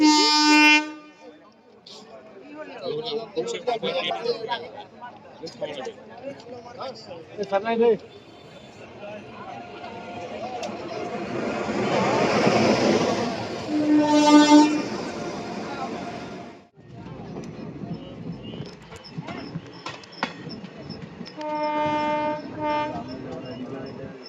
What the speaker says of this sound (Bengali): ট্রেন আসছে, তোমরা দেখতে পাচ্ছ।